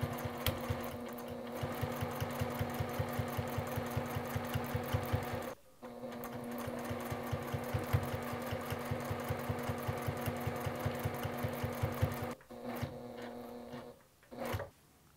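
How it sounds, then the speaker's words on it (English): A sewing machine stitches quilting lines on a fabric star coaster in fast, steady needle pulses, pausing briefly once, then running on before stopping in short bursts near the end. No talking. "I'm gonna add just a couple little stitches in here just for fun."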